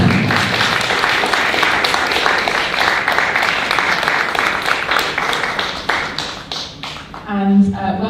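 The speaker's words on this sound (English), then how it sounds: "Could we have another round of applause" A festival audience applauds filmmakers at an international film festival in Nicosia, a dense, loud roar of clapping hands that thins toward the end as a voice begins speaking.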